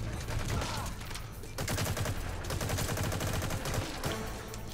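Gunfire from the Metal Gear Online video game comes as dense, rapid bursts of shots that fill nearly five seconds, loud and crowded, with brief gaps between volleys.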